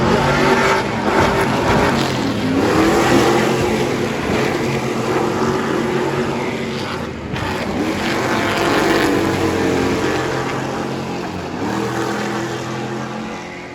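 Race cars roaring past on the Long Beach Grand Prix street circuit along the shoreline, a continuous loud engine wash rising and falling as the field streams by, with no speech.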